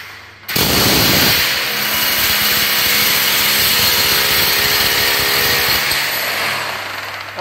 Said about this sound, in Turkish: Burası beton. Şimdi deliyorum.